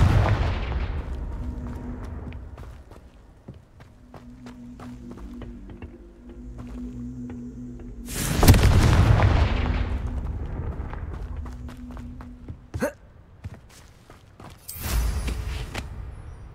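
Confringo fire-blast spells in Hogwarts Legacy, two booming explosive impacts with long rumbling decays over low game ambience and scattered combat clicks, loud and close.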